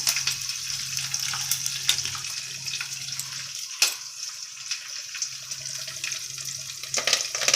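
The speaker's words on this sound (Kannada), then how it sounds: "ಹಾಕೋಕ್ಕೇನೆ ಸಿಡಿಯುತ್ತೆ ಫ್ರೆಂಡ್ಸ್ ಕರಿಬೇವು ಹಾಕಿ" Curry leaves hit hot oil and splutter with crackling pops and a wet frying hiss, punctuated by a couple of sharper bursts, moderately loud with no talking.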